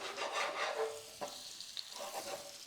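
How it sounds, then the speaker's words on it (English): Flour- and egg-coated cod sizzling in a hot pan as it is shaken, a close, steady fry hiss with a few clanks of the pan. "we are ready for it to land in the pan. Give it a little bit of a shake so it doesn't stick."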